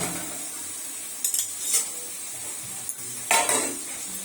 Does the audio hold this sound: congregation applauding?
no